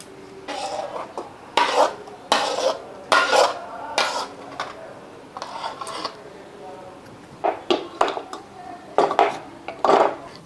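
A utensil scrapes and knocks against a pan while milk sandesh mixture is transferred into a ghee-greased bowl, giving repeated short clinks and scrapes at close range in an irregular rhythm.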